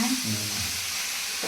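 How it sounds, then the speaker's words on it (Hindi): Spice masala fries and foams in a pan for a green chickpea curry, a close, steady sizzle with light stirring and no clear talking. "अब ये देखिए मसाले हमारे भून रहे हैं, झाग लग रहे हैं"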